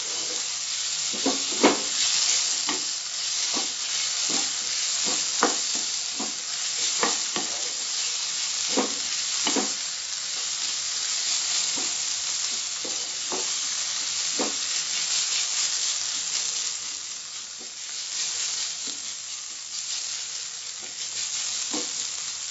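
Mushrooms and capsicum stirred in a hot pan, with a steady sizzle of frying underneath and repeated sharp scrapes and clinks of the spoon against the pan throughout.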